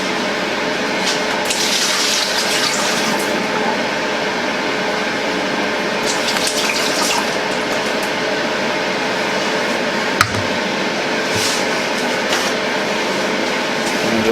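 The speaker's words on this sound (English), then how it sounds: "we're going to dump the water off of this" Water is drained off potato fries that have been soaking, giving a continuous splashing, gushing pour, fairly loud and steady, with a brief clatter partway through and no talk.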